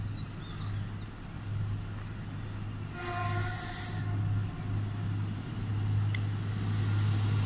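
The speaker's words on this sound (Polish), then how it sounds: "Wjeżdża pociąg Regio relacji Szczecin Główny," A Regio passenger train arrives at a station in Poland with a low steady engine hum and rumble, while a brief high squeal of wheels or brakes rises in the middle of the approach.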